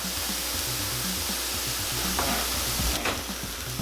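Marinated steakhouse beef filets sizzle loudly and steadily on a Chefman indoor smokeless grill, a dense close hiss with a couple of brief sharper crackles near the end and no talking.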